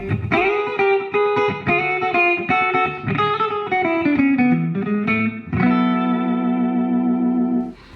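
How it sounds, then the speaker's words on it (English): Electric guitar through a Positive Grid Spark digital modeling amp plays a twangy, echoing rockabilly riff with clean amp tone and slapback delay, notes ringing out with a sustained chord at the end. "showing you what kind of rockabilly tones you can get out of the new Spark amp"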